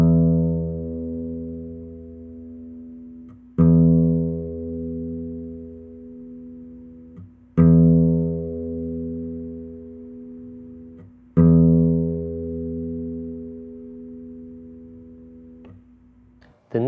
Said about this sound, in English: let's add both the digging motion and the downward pluck to create that open sound